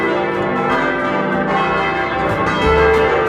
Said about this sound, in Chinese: 你还可以近距离听到最立体的钟声啊